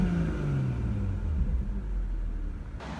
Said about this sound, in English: I've opened the window, hopefully you'll be able to hear it, but I'll give it a little rev.